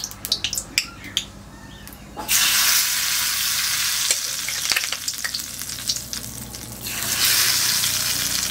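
White mustard seeds drop into hot oil in a kitchen, a few sharp clicks and pops giving way to a loud continuous sizzle with crackling spatters and stirring, swelling again near the end.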